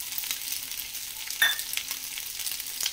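Veg chowmein noodles stir-fry in a hot pan with a steady, close sizzle, broken by scraping stir strokes and one sharper burst of frying about halfway through.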